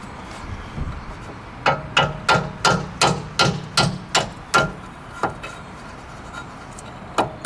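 A hammer taps a bolt out of a Honda Jazz suspension while a broken driveshaft is being replaced: a quick run of sharp metallic knocks, then a few scattered blows, close and clear.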